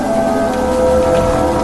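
Steady, dense rain pours down in a forest in the Evil Nun video game, a loud continuous hiss with no breaks and a faint tonal hum beneath it, and no voices.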